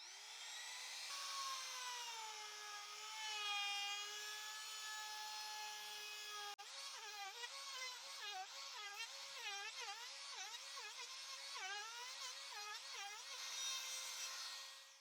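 A handheld router fitted with a 30 mm bit rounds over wooden edges, its high whine holding steady before settling into a wavering, cutting pitch as the bit bites the wood, loud and close throughout.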